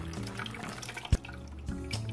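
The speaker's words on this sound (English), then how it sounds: "Just keep pouring the water" Water is poured into a strainer to make coffee without a coffee maker, a faint close trickle and splash with a few soft knocks and one sharp thud midway.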